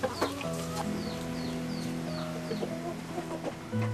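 Farm chickens clucking in a steady, busy stream of short calls close by, with a few higher squawks scattered through and a low rooster-like call near the end, no talk.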